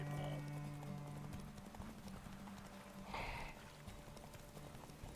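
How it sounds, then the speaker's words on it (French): Rhythmic hoofbeats of a horse galloping in a video game sound steadily beneath game music and faint background voices. "Cheval de merde là, ça m'énerve."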